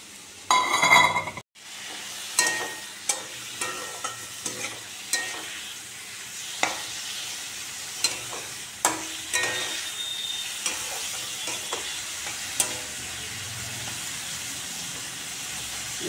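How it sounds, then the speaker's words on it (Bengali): Prawns seasoned with turmeric and salt fry in a pan in a home kitchen, starting with a loud burst of spitting oil, then settling into a steady, close sizzle broken by occasional crackles and pops. "এই যে মাছগুলো ছেড়ে দিলাম, মাছগুলো ভাজা হোক।"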